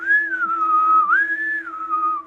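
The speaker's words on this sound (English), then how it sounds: "whistling." An eerie, wavering whistle slides slowly up and down in pitch, clear and sustained with a steady low hum beneath it and no voices.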